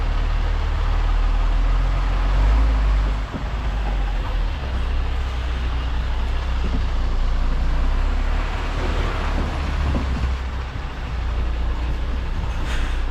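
A lorry towing a trailer reverses slowly through a tight gate, its engine a loud, steady low rumble that holds throughout with no talking.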